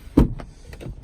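A sunroof on a 2019 Honda Accord Hybrid EX-L begins opening inside the cabin with a short, solid mechanical burst, followed by faint, quiet motor activity that trails off.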